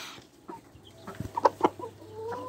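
Hens and a rooster on a small village farm near Lahore cluck in a few short, close bursts over a quiet background, with a faint low hum underneath.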